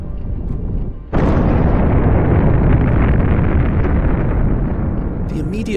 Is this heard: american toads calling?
no